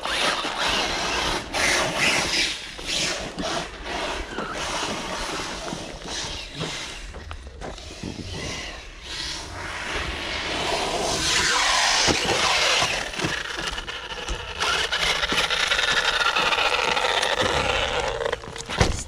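Front differential gears of a Kronos VI RC car grinding, a scratchy, clattering mechanical noise with irregular ticking that grows louder and denser in the second half, heard up close.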